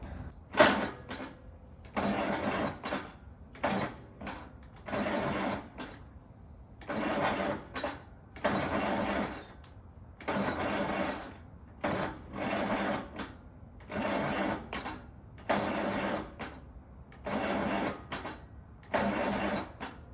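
The engine of an Allis Chalmers CA tractor, stuck after locking up, is hand-pulled to turn it over. It gives about a dozen evenly spaced mechanical chugging bursts, each lasting roughly a second, with short quiet gaps between them.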